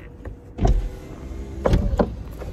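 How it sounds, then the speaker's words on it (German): The electric roof motor of a McLaren 720S Spider convertible hums as the roof retracts, joined by clicks and soft mechanical thumps at several points, close by and clear, with no talking. "dann fährt das Dach hier automatisch aus bzw. ein."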